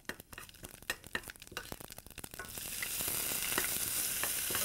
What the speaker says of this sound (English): And we will saute the onions here